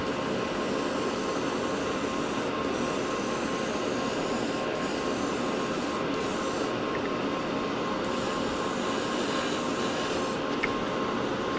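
A Gaahleri Mobius SP airbrush sprays paint at 27 psi, making a continuous close hiss with a few short breaks in the spray.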